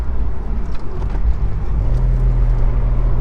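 A Mercedes-AMG car drives past close by, its loud low engine rumble swelling and then settling into a steady drone as it goes.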